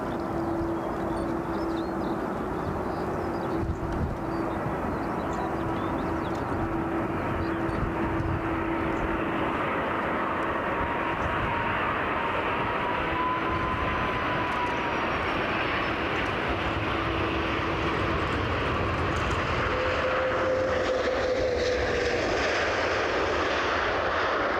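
Large jet airliners landing and taking off at Brussels Airport, a continuous loud broadband engine roar that swells and fades across the whole stretch, with no talk over it.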